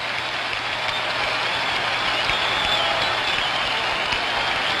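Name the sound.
baseball crowd cheering after a base hit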